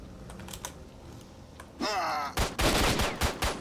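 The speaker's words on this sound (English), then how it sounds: "Oh, you got bullets." Gunfire from STALKER: Shadow of Chernobyl, with several loud close bursts and a sharp crack in the second half, set against light clicking in the quieter first part.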